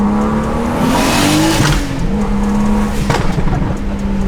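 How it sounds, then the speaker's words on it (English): BMW pulling hard in second gear with traction control off to warm the tires, a loud rising engine note with a brief shift-like dip midway, close and continuous. "So proper way to warm up the tires one way, so you just do a pull on second gear."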